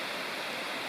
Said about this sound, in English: heard a waterfall over to my right. You can probably hear it.